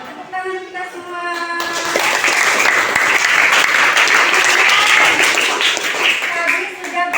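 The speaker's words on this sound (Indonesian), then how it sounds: "Tepuk tangan kita semua." A classroom of primary-school-teacher trainees in a problem-based learning lesson bursts into loud group applause, with a teacher talking before and after the clapping.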